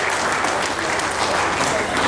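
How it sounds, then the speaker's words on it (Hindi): A crowd at a police inspector to deputy superintendent training completion ceremony applauds, with dense, continuous clapping that stays loud and steady throughout, with voices faintly underneath. "ताली बजती रहनी चाहिए भाई, ताली बज जाए"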